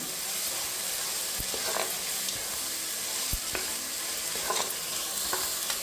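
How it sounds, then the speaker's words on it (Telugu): A tomato rice masala mixture fries and is stirred in a pan, with a steady close sizzle throughout and a few sharp utensil knocks and scrapes scattered over it, no voices. "ఈ మిశ్రమాన్ని బాగా కలుపుకోవాలి బాగా వేపుకోవాలన్నమాట"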